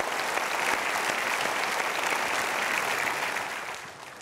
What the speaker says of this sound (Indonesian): Kita berikan aplaus untuk Suryono